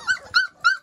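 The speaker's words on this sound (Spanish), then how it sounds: "Ok, los cachorros están medio tranquilos ahora, pero ya viene la mamá." Whimpering and yelping from a litter of chocolate-coloured puppies with their mother dog in a whelping box, three short, high, whiny cries in quick succession, close and clear.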